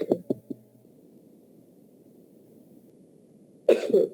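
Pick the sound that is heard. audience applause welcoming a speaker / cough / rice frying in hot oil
cough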